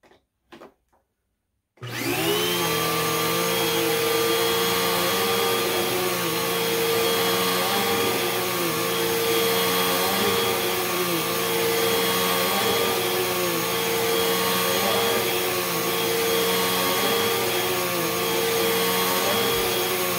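A vacuum cleaner runs test cycles on carpet treated with odor eliminator powder, starting after a couple of brief knocks and then droning steadily and loudly with a constant motor whine for the rest of the run.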